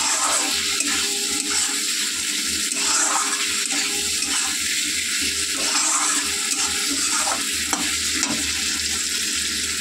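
Water poured into a hot cooking pot of potatoes makes a continuous, fairly loud hiss and sizzle close by, with an uneven bubbling texture throughout.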